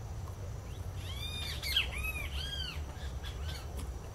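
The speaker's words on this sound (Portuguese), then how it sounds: "Tendo contato com os passarinhos" Small birds squawking and chirping outdoors in a series of short, repeated calls over a low background rumble, moderately close.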